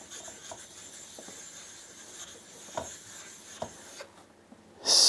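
A 6000 grit sharpening stone is being cleaned with soft, faint rubbing strokes and a few light taps, ending in a sudden louder burst of scraping.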